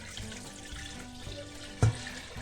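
A steady, soft pour of milk into a pot, with a single sharp knock near the end.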